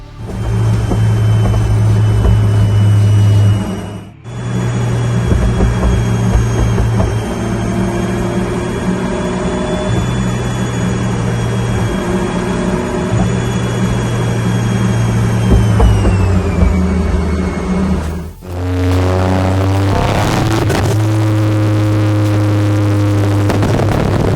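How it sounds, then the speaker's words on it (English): Toyota GR Yaris with a Syvecs ECU holds a loud, sustained high-rev engine drone, drops off sharply at about four seconds, revs again, then cuts out near eighteen seconds into crackling pops and a lower burble. "sit back and watch some big flames on the GR Yaris"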